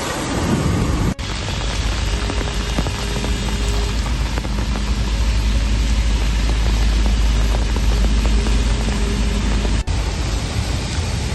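Heavy rain pours steadily onto a waterlogged street in Noida, a dense, loud, unbroken hiss of water that fills the whole stretch with no one talking.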